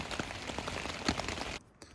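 Steady patter of rain drumming on a thin tent fabric nearby, with scattered heavier drops, cutting out abruptly near the end, at a campsite on Loch Awe, Scotland.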